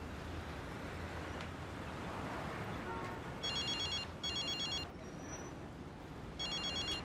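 Telephone ringing indoors with a bright electronic trill in three separate bursts, each about half a second to a second long, over a faint background hum; sounds fairly close but quiet overall.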